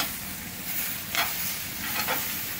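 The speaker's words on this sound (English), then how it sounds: "Stir those up just a little bit" Food stirred in a skillet on an outdoor grill with teriyaki salmon cooking, a steady sizzle underneath with two brief scraping strokes, close and moderately loud, no talking.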